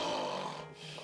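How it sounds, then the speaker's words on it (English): A single close, raspy snore from a sleeping person, one rough breath lasting about a second and fading at the end. "Snoring disrupts sleeps, especially for partners and travel companions."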